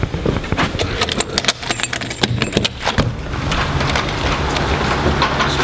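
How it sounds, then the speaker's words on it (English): Heavy rain falls beside a golf course, a dense patter punctuated by irregular sharp drips and taps close by, building to a steadier roar of rainfall in the second half. "It's pissing down today"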